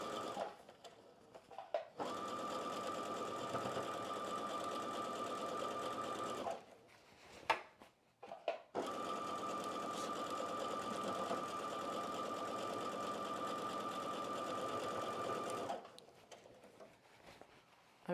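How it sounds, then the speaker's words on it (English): A sewing machine stitches a seam with a steady whirring hum in two long runs separated by a brief stop and some handling noises, all close and without talk. "to the sewing machine and create a 5/8 of an inch seam allowance line first before pressing it up."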